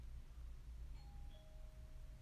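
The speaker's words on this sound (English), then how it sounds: "That was my doorbell." A doorbell sounds faintly in the distance in a quiet indoor room: two soft electronic tones, the second lower and held longer, under a low background hum.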